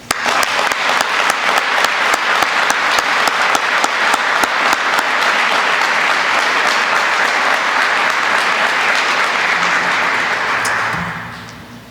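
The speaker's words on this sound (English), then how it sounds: "please accept this round of applause in our appreciation of gratitude." Sustained loud audience applause at a firefighter recruit class graduation ceremony, dense steady clapping filling the hall for about eleven seconds before fading out at the end.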